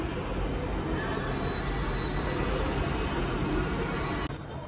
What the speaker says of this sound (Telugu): మెట్రో తీసుకున్నాను